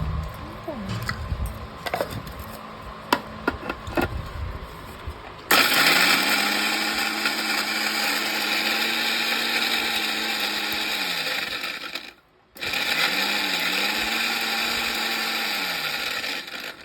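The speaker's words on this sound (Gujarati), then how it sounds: "ઓરિયો બિસ્કિટને પણ આપણે મિક્સરની અંદર ક્રશ કરી નાખશું." A kitchen mixer grinder crushes Oreo biscuits, starting with a loud steady whirring drone that runs for several seconds, stops briefly, then starts again, after light handling clicks.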